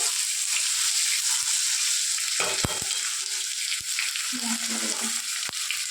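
Tomatoes fry in hot oil in a pan for a dimar kari (egg curry), giving a loud, continuous sizzle with a few scattered clicks of a stirring utensil.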